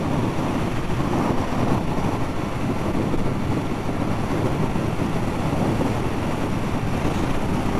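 Wind roars past a helmet microphone on a motorcycle ride, a constant loud rumbling buffet filling the whole stretch with no talking.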